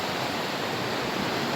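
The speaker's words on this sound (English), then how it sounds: "residents seems really amazed at the force of Mother Nature's power as water cascades down the river" Floodwater cascades down a river in Jamaica after a bridge was destroyed, a dense continuous rushing roar heard close and loud with no letup.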